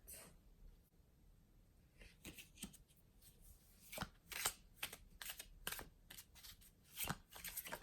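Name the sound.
shuffling tarot cards to draw one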